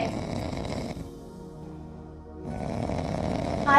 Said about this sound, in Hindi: ये तो उस बहन की खर्राटे की आवाज आ रही है